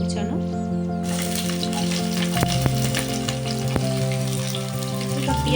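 Chopped onion, whole dried chilli and mustard seeds sizzle and crackle steadily in hot oil for a quick chicken curry, with a low hum and a couple of sharp clinks partway through.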